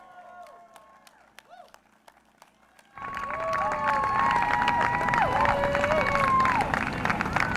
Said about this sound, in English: please get on your feet, cheer him on, Jason Hayes